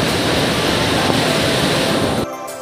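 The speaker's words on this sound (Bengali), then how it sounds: "এত জোরে জলের আওয়াজ কিছু শোনা যাচ্ছে না।" Kanchenjunga Falls in Pelling, Sikkim, pours with a loud, dense, continuous roar of crashing water close by. The roar cuts off abruptly near the end.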